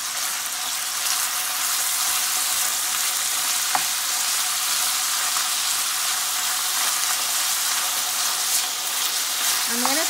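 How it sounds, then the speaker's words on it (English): Ground turkey sizzles loudly and steadily in oil in a pan, a dense close frying hiss lasting throughout, with a few faint scrapes of stirring. "So now I'm gonna add my ground turkey to the pan with oil. I'm gonna mix this up."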